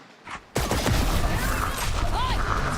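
Gunfire in the shooter game Valorant during a PRX vs FNC professional match, with a sudden loud burst of shots followed by sustained dense combat noise and sweeping ability effects, with a caster talking over it.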